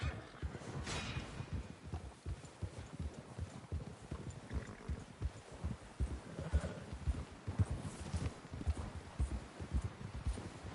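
Rapid, steady hoofbeats of galloping horses in Red Dead Redemption 2 pound throughout, dense and driving, with occasional brief higher calls above the rhythm.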